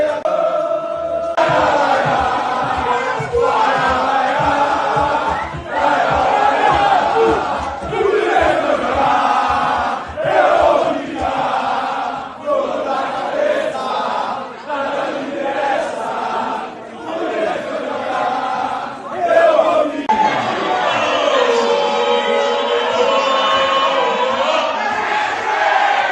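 Fluminense supporters in New York for the FIFA Club World Cup chant in unison, a dense crowd singing with a rhythmic pulse throughout, loud and close.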